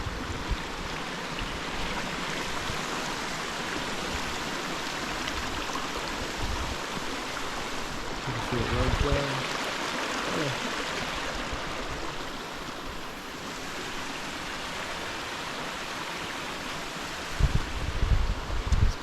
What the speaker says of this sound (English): crossing a little waterfall here, a little creek.